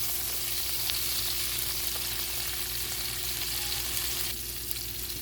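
Asparagus fries in butter in a pan, a steady close sizzle and crackle with faint scraping as it is stirred and turned, heard alone without talk.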